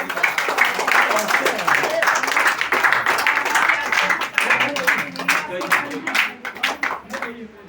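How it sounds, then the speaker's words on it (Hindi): Audience applause welcomes a minister at a Congress party event in Mauganj, a steady crowd clapping that holds at a fairly loud level for the whole stretch, with voices mixed underneath. "हमारे आदरणीय मंत्री के लिए जोरदार तालियों से स्वागत किया जाए"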